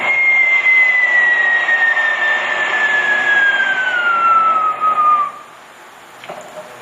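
A human voice imitates an airplane as one long sustained whine that glides slowly downward in pitch, held loud and steady for about five seconds before cutting off into quiet.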